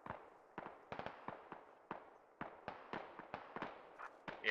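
Mortar rounds land in a video game, a string of about a dozen sharp blasts spaced unevenly, some close together in pairs, each with a short crackling tail, fairly distant and moderate in level.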